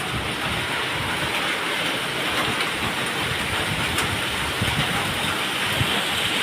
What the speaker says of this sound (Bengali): জোরে বৃষ্টি পড়ছে বাইরে।